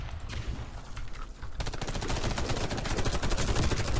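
Rapid automatic gunfire in the Warface shooter game, a sparse shot or two followed by a dense, sustained burst of close, loud rattling fire.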